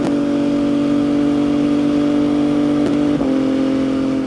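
MV Agusta motorcycle engine during a test ride, holding a loud, steady mid-range drone with a brief dip and recovery near the end, heard close with no talk.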